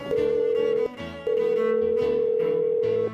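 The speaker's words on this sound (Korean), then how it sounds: "지금 당장 전화해서 알려드려야겠어요" A steady telephone tone hums continuously with a brief break near the start, mixed with other sustained electronic notes.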